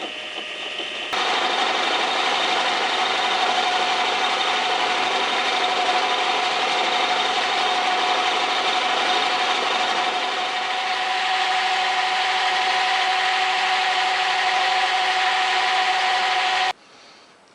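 A lathe fitted with a milling attachment takes a hand-fed cut, a steady loud whirring grind with a high tonal whine that holds for about fifteen seconds before cutting off abruptly.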